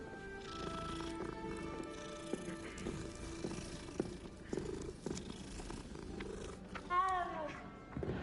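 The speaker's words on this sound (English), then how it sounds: "Oh, look, kitty." In the Hogwarts Legacy video game, a cat purrs softly under a busy layer of game ambience, music and faint voices, with a brief higher call near the end.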